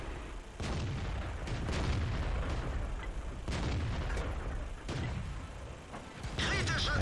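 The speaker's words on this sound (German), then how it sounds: "Ich versuche noch mal hier hinten auf den Tank zu schießen." Heavy tank cannon blasts in the World of Tanks video game, several loud booming shots with rumbling engine and battle noise running continuously between them.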